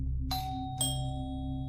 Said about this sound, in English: rang the doorbell on the Haynes family home